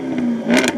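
Jaguar XKR-S sports car engine revving briefly, a close, loud mid-pitched hum that rises into a sharper burst near the end, with no voices.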